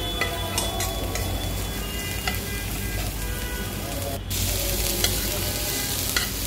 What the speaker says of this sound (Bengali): তো আমি এখন চিংড়ি, রসুন আর পেঁয়াজ কুচিটাকে ভালো করে মরিচ দিয়ে ভেজে নিচ্ছি।